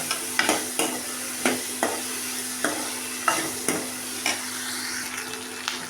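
Turkey berries sautéing in oil with onion and garlic in a village-style kitchen, a steady sizzle broken by regular scraping stirs about once a second, close and moderately loud, with no talking.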